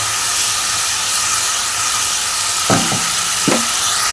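Bengali spice paste for papaya ghonto sautés in a pan with a continuous close sizzle and hiss, broken by a few short scraping stirs of a spatula toward the end.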